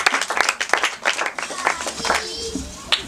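A church congregation claps for a young woman, a short burst of scattered hand claps mixed with children's voices and murmuring, close and uneven.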